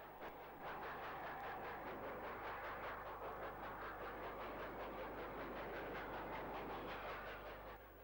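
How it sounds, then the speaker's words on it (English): A train rolls steadily past at York with a rhythmic clickety-clack of wheels over rail joints, and a constant low rumble sits underneath. The sound is moderately distant, even and unbroken, with no voices. "A continuous procession of trains through York provided a wide variety of locomotive types."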